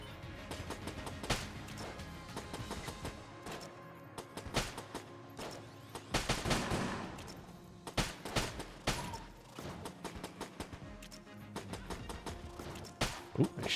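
Rapid gunfire from the bullet-hell game Enter the Gungeon, dense volleys of sharp shots in irregular bursts at moderate loudness, with occasional brief talk.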